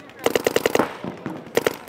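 Paintball guns firing in the snow, two quick bursts of rapid snapping shots close by, the first a string of about six, the second a pair, with a voice briefly under the shots.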